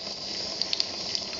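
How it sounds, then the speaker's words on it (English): Tap water runs steadily as a hat is rinsed at a sink, a continuous close hiss with a few brief splashy spikes. "Turn the water on."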